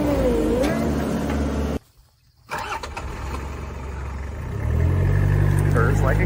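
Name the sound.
Toyota Hilux engine starting and idling after roll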